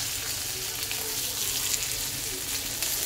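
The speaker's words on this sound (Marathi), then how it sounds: "तर इथे आमची तसे बोंबील व्यवस्थित फ्राय झालेले आहेत एका बाजूने" Bombay duck (bombil) fish frying in a pan, a steady dense sizzle filling the whole stretch at moderate level with no talk over it.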